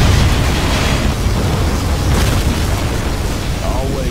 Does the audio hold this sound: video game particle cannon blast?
yes